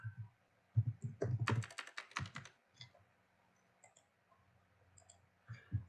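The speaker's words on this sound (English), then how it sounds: "Okay, I'm just typing in something" Bursts of fast keyboard typing, close and crisp, break off into scattered single key clicks and quiet pauses before another short flurry at the end.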